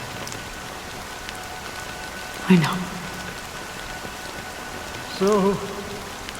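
Rain falls steadily in the Honkai: Star Rail video game, a soft constant hiss of drops under two short bursts of spoken voice.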